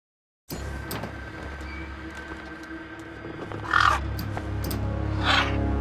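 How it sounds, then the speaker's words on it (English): Gang-gang birds calling across a wasteland in Beyond A Steel Sky: two loud, raspy squawks stand out over a low ambient hum and scattered clicks, the second call a little later and more distant. "Then, I heard them. Gang-gang birds."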